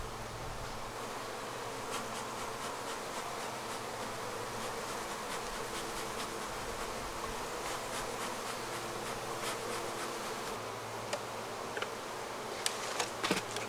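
Honeybees drone steadily around an open hive during a honey harvest, a dense, even buzz close to the microphone with occasional louder passes of individual bees near the end.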